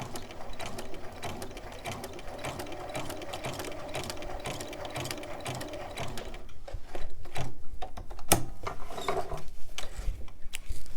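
A home sewing machine stitching down a raw-edge fabric applique, feed dogs lowered for free-motion work around curves, runs in a steady fast mechanical whir with ratcheting clatter, growing louder and choppier near the end, with no talking.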